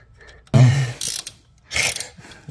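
Ratchet wrench with a 17 mm socket turning a nut under a 2022 Dodge Challenger Hellcat, heard as several quick bursts of close, clicking pawl ratcheting with short pauses between them.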